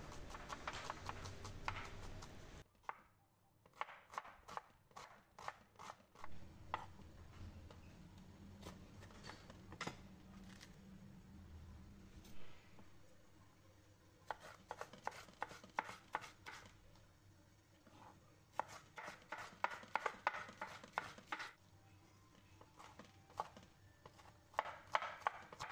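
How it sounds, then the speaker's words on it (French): A knife slices a tomato into rounds on a cutting board, giving a faint, close series of crisp chopping taps in irregular clusters with quieter gaps between them. "Et la tomate, je la coupe en rondelles"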